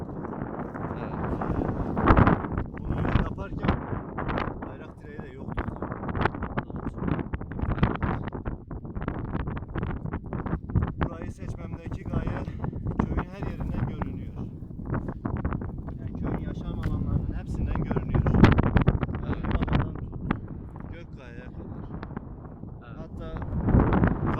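Strong wind buffets the microphone in loud, rumbling gusts throughout, while a person speaks beneath the noise.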